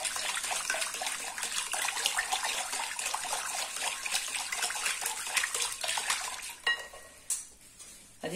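Warm water pours steadily into a bowl of cake batter mixed with oil and sugar, a continuous splashing trickle that runs for most of the stretch before breaking into a few brief clinks and splashes near the end.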